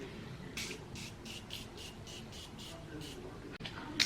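A quick series of about nine short bursts of Morphe makeup setting spray hisses onto a face in a steady rhythm, close by, followed by a brief pause and one more puff.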